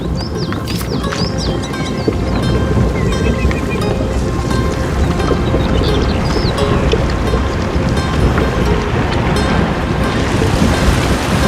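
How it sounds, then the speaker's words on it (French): Strong river current rushing past a giant water wheel at a wheat mill in the video game A Plague Tale: Innocence: a loud, steady wash of water noise that fills the whole clip with no speech. "Oh, le courant est trop fort."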